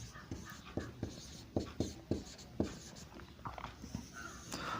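A red pen writes chemistry notes on paper, giving close, distinct scratchy strokes and taps in an irregular rhythm with no talk.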